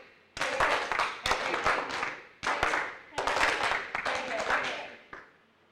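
Audience members clapping together in a rhythmic group exercise at a session hall, bursts of claps arriving in repeated rounds of sharp, fairly close hand claps with short pauses between sets.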